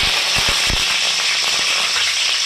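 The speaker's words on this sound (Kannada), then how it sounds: "ಸಾಸಿವೆ ಚಟಪಟ ಅಂದಮೇಲೆ ಸ್ವಲ್ಪ ಕರಿಬೇವಿನ ಸೊಪ್ಪು ಹಾಕ್ಕೊಳ್ಳಿ" Mustard seeds splutter and pop in hot oil for a tamarind rice dish, a dense, close crackle with sharp snapping bursts over a constant sizzle.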